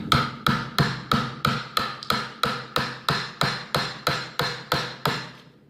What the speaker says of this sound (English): we're gonna chisel down a little bit so that each leg sits down in that recess